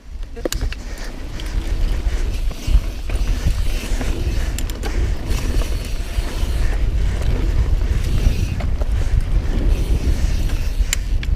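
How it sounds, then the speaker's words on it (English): Steady, rough wind buffeting the microphone on a mountain bike trail in DuPont State Forest, a continuous rumbling roar with occasional gusts and no clear speech. "It's pretty windy today."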